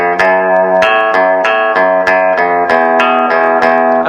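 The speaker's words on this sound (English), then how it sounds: "So I'm creating the twangy sound by being right down here by the bridge." Twangy electric guitar notes picked with a plectrum close to the bridge, ringing in a steady repeating riff of bright plucks, loud and alone with no voices.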